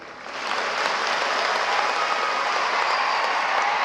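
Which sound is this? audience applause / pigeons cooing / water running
audience applause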